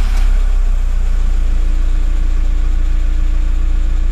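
A VW T5 diesel engine, just back from a fuel filter change, running loud and close with a steady, low rumbling idle and constant vibration.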